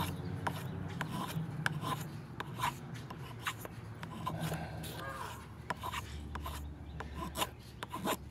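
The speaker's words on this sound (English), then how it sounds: "But it seems to be shaving very, very nicely." An Eafengrow EF127 knife with a 14C28N steel blade shaves wood in repeated short rasping strokes, close and fairly quiet, with irregular scraping pulses throughout and no talk.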